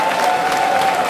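Crowd at a political rally claps warmly to welcome the national chairman of the Democratic Action Party, a brief burst of dense applause with a faint steady tone underneath.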